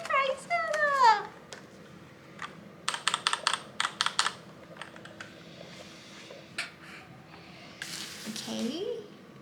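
Typing on a white RK84 custom mechanical keyboard, with crisp key clicks in quick clustered bursts close by, broken by pauses, while a voice speaks at the start and near the end.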